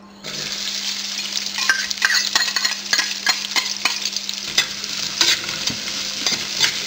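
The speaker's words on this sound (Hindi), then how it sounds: "अभी मैं इसमें ये अपने अनियंस, प्याज और गार्लिक डाल रही हूँ।" Roughly chopped onions and garlic frying in hot oil in a pan on high gas, a steady close sizzle broken by repeated scraping stirs, with a constant low hum underneath.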